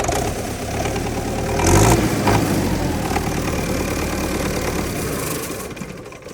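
Belarus 80X tractor engine running in Namangan region, a steady close diesel rumble with a brief swell of revving, continuous and without talk.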